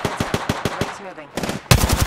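Automatic gunfire in a battle royale video game, a fast, even string of loud close bursts, a short gap, then a heavier, denser volley with booming low thumps.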